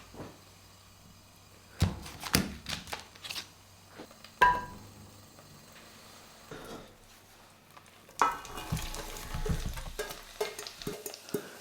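Sliced onions drop into a pan of hot olive oil and butter, starting with a few scattered clunks and knocks, then breaking into a soft, steady sizzle for the last few seconds.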